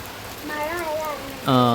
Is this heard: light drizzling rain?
yes